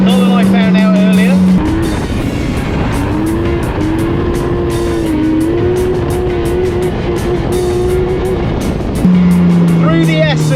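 Race car driven flat out around Castle Combe circuit at up to 130 mph, engine note loud and close with sustained revving that drops and climbs through the corners, tyres squealing, while a driver talks over it.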